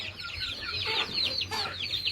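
Chickens in a coop cluck close by in quick, overlapping bursts, with several birds calling at once against a low background hum.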